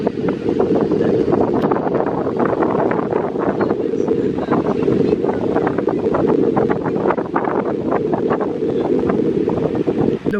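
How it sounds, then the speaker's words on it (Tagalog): Steady cold wind blows across the microphone outdoors, a constant loud rushing roar without a break, with faint voices now and then. "Malamig ang hangin"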